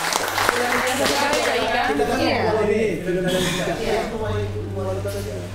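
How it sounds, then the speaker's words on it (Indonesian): An audience applauds at a casual talk session with Ambon's deputy mayor. The clapping is steady and fairly loud, with voices and laughter mixed in throughout. "kita berikan aplaus"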